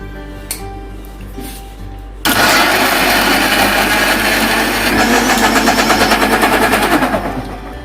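Blender grinding watermelon with mint leaves, black salt and sugar into juice, a loud steady motor roar that kicks in abruptly and runs continuously, with a faint rhythmic pulsing toward the end before it winds down.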